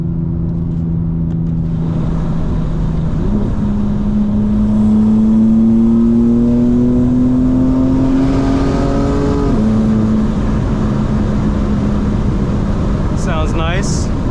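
A fully modified 2025 BMW M4 Competition drones loudly and steadily from inside while driving through Atlanta in the early morning, its engine note climbing gradually as it pulls, then easing back, with a brief higher chirp near the end.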